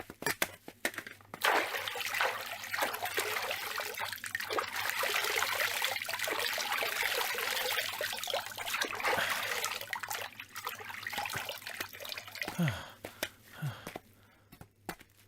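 Water runs and trickles steadily close by, a continuous splashing wash that fills the scene for most of its length before thinning out near the end, with a faint voice in the background.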